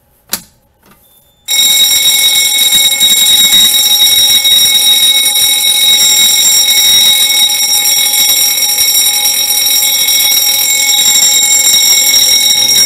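Fire alarm bells driven by a Simplex 4010 panel ring loudly and continuously after a brief quiet moment with a few small clicks, a steady, unbroken metallic clang filling the rest of the clip with no talking.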